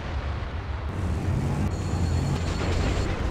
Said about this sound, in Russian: По мне все еще арта долбит.